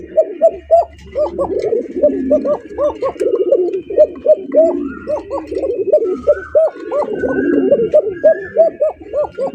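Several Silver Lahori pigeons coo close by, their throaty, rolling calls repeating and overlapping almost continuously.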